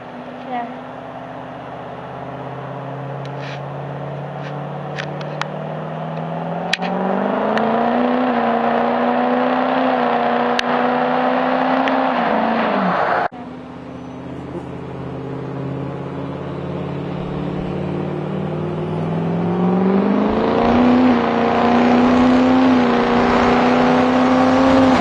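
A 2005 Ford 6.0 Powerstroke diesel truck doing burnouts and launches revs hard, its engine note climbing in pitch, cutting off abruptly, then rising again to a loud, close roar.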